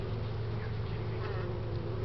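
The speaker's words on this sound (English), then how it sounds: "Now I'm getting pelted by honeybees." Honeybees swarming around an open hive, a steady close dense buzzing drone filling the whole short stretch with no voices.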